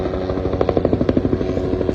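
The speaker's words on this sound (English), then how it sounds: "I'm gonna wait till this helicopter pass to say this" A helicopter passes overhead outdoors, its steady rhythmic rotor thumping and engine drone filling the background at moderate loudness, with no talk over it.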